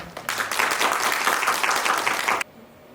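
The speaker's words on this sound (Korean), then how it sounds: "이재민 교수님을 박수로 환영하겠습니다." An audience at a Jeonju University social economy lecture claps to welcome a behavioural economics professor. A few claps start it, then dense, lively applause holds steady for about two seconds and stops abruptly, leaving quiet room tone.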